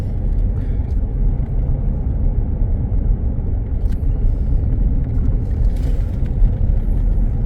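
A car cruising along a rural road through open farmland in Virginia, a steady loud interior rumble of engine and tyres that runs unbroken throughout with no talk.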